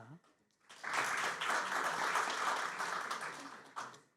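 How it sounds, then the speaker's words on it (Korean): Audience at a business issues forum applauds steadily for about three seconds after a panelist's introduction, a full dense round that swells quickly and then tapers off. "뜨거운 박수 부탁드립니다"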